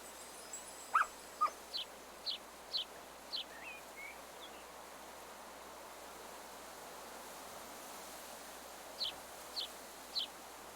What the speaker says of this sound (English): Also, fire dogs are great,